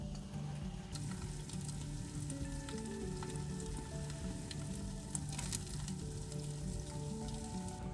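Food sizzles steadily in oil with Italian seasoning on a stove inside a hot tent during winter camping. It is a continuous, fairly close frying crackle with scattered small pops and no talk.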